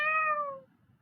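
A person imitates a single cat meow for a children's animal-sound recognition demo: one short, clear, close mew that rises and fades within about half a second, followed by faint room quiet.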